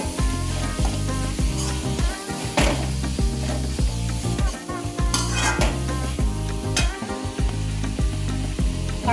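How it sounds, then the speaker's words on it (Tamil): Vegetables sauté in a pan for a paneer roll, with a constant sizzle under repeated rhythmic scraping and clattering of a spatula against the pan, close and fairly quiet. "காய் இந்த அளவுக்கு நல்லா வதங்கினதுக்கப்புறம் ஸ்பைசஸ் ஆட் பண்ணி இன்னும் கொஞ்சம் நம்ம வதக்கிக்கலாம்."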